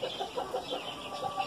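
Griscendre chickens, a dual-purpose breed, with a rooster among them, give soft, repeated clucks at a steady pace, faint and fairly close, with no one speaking.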